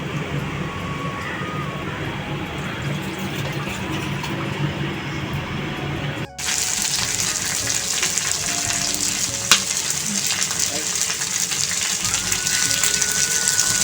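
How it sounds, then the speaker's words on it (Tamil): Squid frying in oil on a dosa tawa, a dense close sizzle that drops out briefly about halfway and then returns louder and harsher, with occasional faint clicks and no speech. "தோசைக்கல்ல போட்டு ஃப்ரை பண்ணி எடுக்கணும் எண்ணெய் விட்டு"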